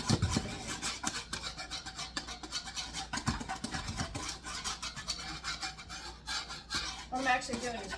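A whisk scrapes and rasps rapidly through flour in a bowl for a raspberry cream pie, with quick rhythmic close strokes that continue throughout at moderate volume.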